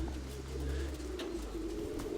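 A group of eight pigeons coo softly and continuously in low tones, with faint rustling and background noise throughout.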